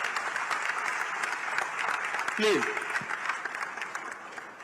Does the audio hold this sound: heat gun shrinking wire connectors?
no